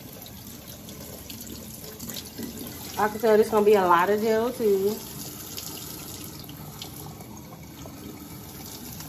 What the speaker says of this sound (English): I'm gonna run this through some water